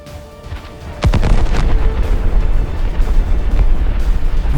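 A 240mm naval artillery shell explodes on a Ferdinand tank: one sudden, heavy boom that drops into a loud, sustained rumble and debris roar lasting several seconds.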